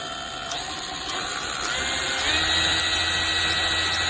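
A DEVMOTT 12V brushless cordless mini polisher runs steadily with a high, even whine and a quiet oscillating hum, its pitch rising slightly partway through, with no talk.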